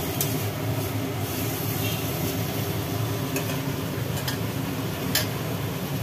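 Fried potatoes and spices are sautéed in a pan for a Bengali prawn dish, a dense continuous sizzle with a few sharp scraping ticks from stirring, fairly close and steady.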